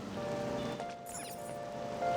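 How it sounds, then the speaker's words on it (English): Steady rain falls in Persona 5, a soft continuous patter under faint tonal game music, with a few splashy swishes near the middle. "The rain's keeping customers away."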